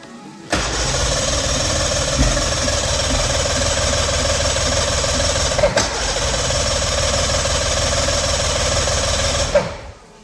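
A marine boat engine runs loudly and close for several seconds with a rough, uneven sputter and one brief stumble midway before it cuts out.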